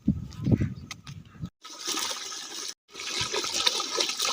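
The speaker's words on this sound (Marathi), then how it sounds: "मोटर चालू झाली वाल फिरवून आली ती खाली पाणी आलं आहे" Water from a pump motor rushes and splashes steadily, with two brief pauses where the flow cuts out before surging back in, close and fairly loud.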